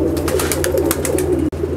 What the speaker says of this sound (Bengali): কত পায়রা দেখাবো আপনাকে, দেখিয়ে আপনি দেখিয়ে শেষ করতে পারবেন না